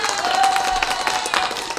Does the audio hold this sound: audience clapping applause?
yes